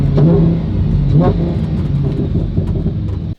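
A Lamborghini engine revs hard while accelerating, a loud, close, steady roar with rising and falling pitch sweeps as it pulls through the gears.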